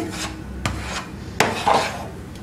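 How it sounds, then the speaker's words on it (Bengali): A spoon stirs condensed milk with baking soda in a pan, giving close scraping and rubbing strokes with a few sharper clinks against the pan, irregular and short, with no voices. "এইভাবে ভালো করে নেড়ে চেড়ে সোডাটা মিশিয়ে দিতে হবে।"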